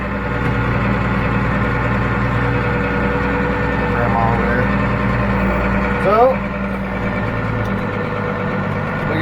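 A tractor engine idles and rumbles steadily throughout, with a voice speaking over it partway through and a brief swell in loudness.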